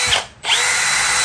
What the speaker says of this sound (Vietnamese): Ở đây thì có cái khoan này